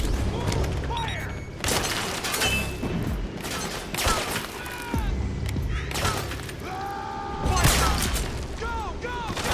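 Battlefield gunfire in Metal Gear Solid 4: Guns of the Patriots, scattered bursts and booming shots with clattering impacts, mixed under shouted voices and chaotic combat noise.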